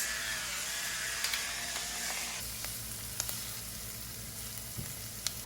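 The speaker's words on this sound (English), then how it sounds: "we're just gonna let them cook down and get sweet for about 3 to 5 minutes" Onions seasoned with salt and pepper sauté in a pan with a continuous, even sizzle at close range. A few light clicks and taps of a utensil stand out above it.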